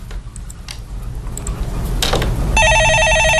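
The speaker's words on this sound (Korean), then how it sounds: "예, 전화 받아보겠습니다." A telephone bursts into a bright, fast electronic trill near the end of the stretch, loud and close, after a few seconds of soft clicks and shuffling in a broadcast studio.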